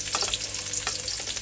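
Onion frying in hot oil in a pan for fresh lumpia filling, a steady close sizzle with brief stirring scrapes, no voices.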